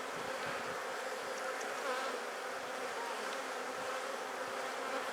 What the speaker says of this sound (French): Et elles y vont toutes, hein.